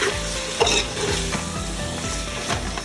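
Tomato, coriander and mint fry for chicken dum biryani in a hot pan with a steady, close sizzle. Stirring scrapes and light clatter break in now and then.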